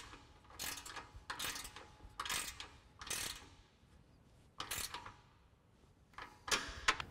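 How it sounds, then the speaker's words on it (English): A 13mm ratcheting wrench tightens a running board bolt on a 2010-2023 RAM 2500 pickup, giving several close, crisp ratcheting bursts separated by short pauses. "Then we'll have to grab our 13mm ratcheting wrench for our backside combo bolt."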